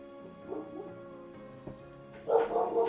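A dog barks in a short burst near the end, fairly close, over a steady background hum in a quiet room.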